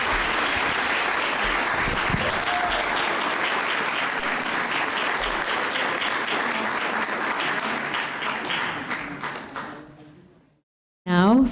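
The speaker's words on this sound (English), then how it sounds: "audience, please give a round of applause to our candidates" An indoor audience at a 2018 candidate debate forum applauds the candidates in a steady, dense round of clapping lasting about ten seconds, then fades out to near silence before a brief sound at the end.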